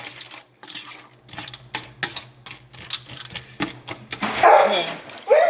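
Two dogs, Shadow and Rover, fighting near their food, with rough snarls and growls that grow louder toward the end, mixed with clicking and tapping sounds while a person talks.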